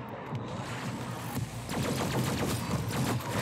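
Rapid minigun fire from zombie enemies in DOOM Eternal, a dense rattling burst of automatic shots that grows louder and steadier toward the end, heard alone without talk.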